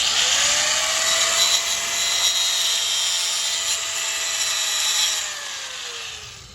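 A cutting tool grinds a slot into a stuck valve cover bolt on a SAAB 9-3, a sustained high whining rasp that holds steady for several seconds before tapering off near the end, close and loud with no voices.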